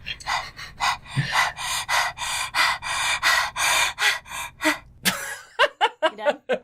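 Mayuri, a young woman in the Steins;Gate video game, breathes heavily in a rapid run of loud gasping pants, then a few shorter catching breaths at the end.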